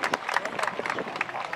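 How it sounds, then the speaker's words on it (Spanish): Crowd applause for a gaucho riding group at an anniversary parade in Bajo Hondo, a brief, steady patter of many hands clapping outdoors, with crowd murmur underneath. "Fuerte el aplauso para esta agrupación que hoy dijo presente en Bajondo"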